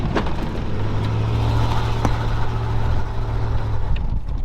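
An old Ford tow truck drives around a snowbank, its engine a steady, loud low drone with a sustained hum and some rattles and bumps close by, easing off at the end.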